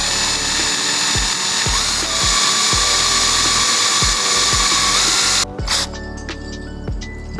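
Drill grinding out a broken plastic bumper tab on a Mitsubishi Evo 9 front bumper, a steady high whine with periodic low knocks, loud and close, cutting off abruptly near the end to quieter tool noise.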